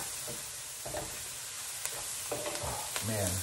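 Minced onions, garlic and mushrooms pushed around a hot pan for keto beef stroganoff, a continuous sizzle broken by a few scraping stirs, close by and without speech.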